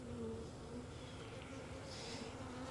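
Honeybees humming inside a hive full of nurse bees, a faint, steady buzzing drone with a few individual bees rising briefly above it, heard close and without talk.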